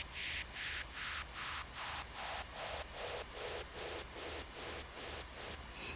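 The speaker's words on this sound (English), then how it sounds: "I've just automated the frequency, and I've left that resonance pretty high, so you get the effect of it boosting a moving frequency throughout the white noise." White noise through Ableton's stock filter, with the frequency automated and resonance set high, pulsing in about a dozen regular loud bursts. A resonant boost sweeps steadily downward across the bursts, with no voice.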